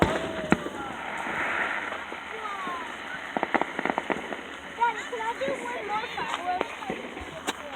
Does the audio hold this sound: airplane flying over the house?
no